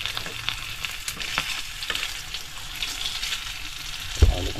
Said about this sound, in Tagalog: Nagpiprito.